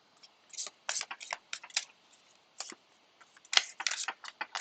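Tarot cards being shuffled by hand, a run of quick papery riffles and flicks in irregular bursts with short pauses, close and fairly quiet, no talking.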